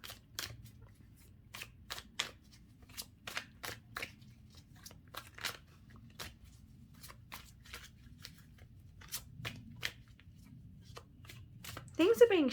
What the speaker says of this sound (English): I keep shuffling the cards